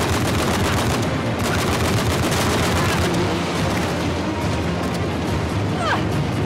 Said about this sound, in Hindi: नेडीन रुकना मत, गोलियां चलाते रहो